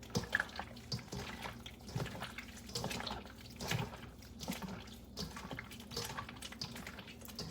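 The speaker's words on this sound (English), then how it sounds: "I'm just going to mash everything just like so with my hands" Soursop pulp is mashed by hand, giving wet, squelching, sloshing sounds in an uneven rhythm, close and fairly soft, with no talking.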